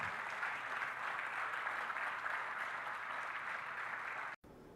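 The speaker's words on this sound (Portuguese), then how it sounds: "Você pode aplaudir a Deus pela palavra dele." Congregation in church applauding, a steady, soft-sounding wash of clapping heard from a distance, continuous for a few seconds before a brief cut.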